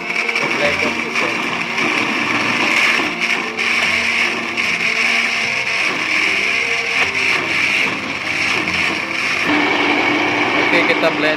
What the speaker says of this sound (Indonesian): Oke, kita blender sampai halus.